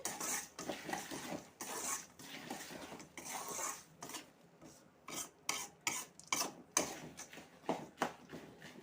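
A utensil stirs chili powder into fried poha mixture in a pan, giving quiet scraping and clinking strokes in an irregular rhythm that grow quicker and sharper toward the end, close by and without talk.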